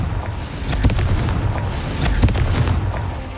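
Confringo blasting spell in Hogwarts Legacy bursting in a rapid string of booming, crackling blasts, several sharp impacts over a rumbling background, loud and close.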